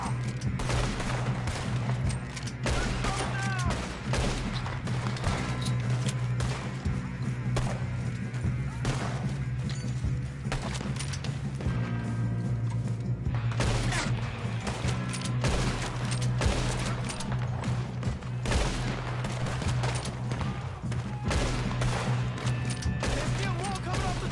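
Gunfire in the western video game Red Dead Redemption 2 keeps up as steady volleys of shots with thuds. A constant low game hum runs beneath it, and voices talk over it now and then.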